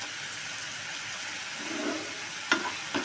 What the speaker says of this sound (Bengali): আগে থেকে পেস্ট করা আদা রসুনের পেস্টটা আমি দিয়ে দেব, দিয়ে নাড়তে থাকবো। তেল ছাড়া পর্যন্ত আমি অপেক্ষা করব।